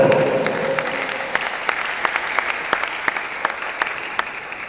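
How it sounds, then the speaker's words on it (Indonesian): Crowd applause at a Christmas celebration, a loud sustained clapping wash with a few sharp individual claps standing out in a regular rhythm, and a brief voice at the very start. "Tepuk tangan dulu."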